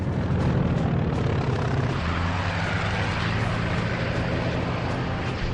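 A Pratt & Whitney R2800 radial engine on a fighter aircraft drones loud and steady at close range, a dense continuous roar as it accelerates, with no voices over it.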